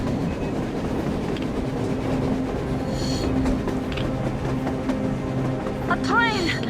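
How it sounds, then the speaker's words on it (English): A train in the Metro Exodus video game rumbles through a blizzard, its steady clickety-clack rolling under the wind, with a rising metallic wheel squeal near the end. "A damn train on the surface!"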